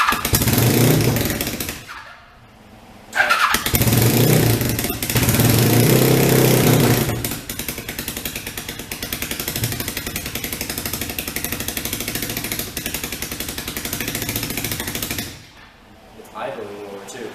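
A motorcycle engine runs loudly, revving and then settling into a steady rapid idle, with two brief drops to near silence and some voices.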